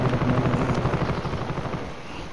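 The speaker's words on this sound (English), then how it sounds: "There's a helicopter." A helicopter in a first-person shooter game, its rotor chop a steady low throbbing pulse that holds through the whole stretch at moderate level, slowly easing off toward the end.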